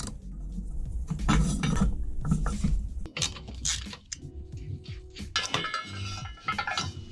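Metal clanks and scrapes as the old exhaust pipes come off a 1993–2001 Honda CB500 PC32 with copper grease on their ends, close, irregular knocks and clinks in a workshop.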